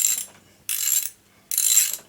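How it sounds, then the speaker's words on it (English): A hand-spun ratchet noisemaker gives three short, loud, rasping bursts of rapid clicking separated by brief pauses, close and alone. "I have a different type of ratchet here"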